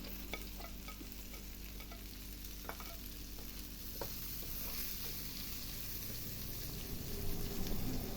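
Onions fry in a pan over maximum heat, giving a steady close sizzle with occasional stirring scrapes and clicks that grows slightly louder toward the end, with no talking.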